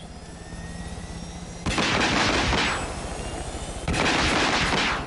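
Far Cry New Dawn weapons, rockets and .50 caliber guns, fire in two loud rapid bursts over a steady engine drone, each burst rattling for about a second before fading.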